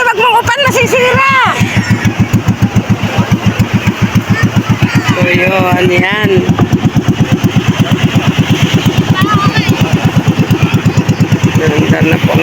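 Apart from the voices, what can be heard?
boat engine running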